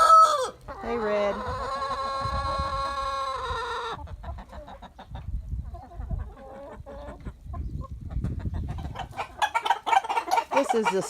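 Chickens, including silkies, cluck nearby at a homestead coop, with a long rooster crow at the start, and busy clucking and squawks building toward the end.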